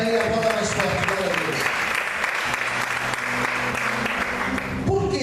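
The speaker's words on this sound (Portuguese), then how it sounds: "aplauda mais forte" Loud, sustained clapping from a church congregation, steady and full, with sung or spoken voices and music-like tones running over it at the start and end.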